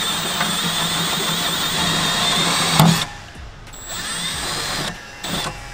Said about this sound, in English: You drill.